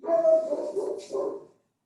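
A dog barks and whimpers close by in a quiet room, giving a few short voiced yelps over about a second and a half before falling silent.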